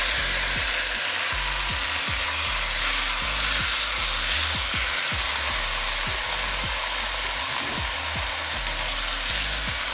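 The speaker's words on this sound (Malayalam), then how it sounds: "അതിലേക്ക് ചിക്കൻ നമ്മൾ ഇടാൻ പോവുകയാണ്." Chicken pieces fry in curry masala with a steady, loud sizzle throughout, while a spoon stirs them in repeated scraping strokes close by.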